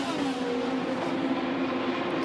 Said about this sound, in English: These guys are flying 177 miles an hour the last lap for Pato O'Ward.